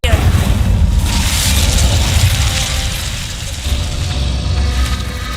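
A fire spell blast in a video game, a loud, deep roaring boom that rumbles steadily for several seconds with a crackling, whooshing upper layer.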